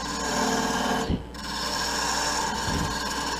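Wood being shaped on a lathe with a gouge while turning a gnome figure, a steady close rasping scrape that runs almost continuously with a brief pause near the middle.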